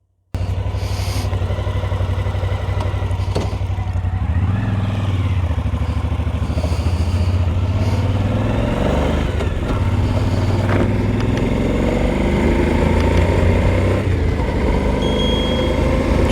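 A Suzuki V-Strom motorcycle rides a winding mountain highway, its engine droning steadily from the rider's position under constant wind roar, with engine pitch rising and falling through shifts and some clatter, and no talk.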